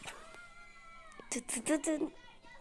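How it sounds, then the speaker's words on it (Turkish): A cat meows a few times at close range, the calls rising and falling amid light household sounds, with a person talking quietly nearby. "Bir tane kedi var arkadaşlar."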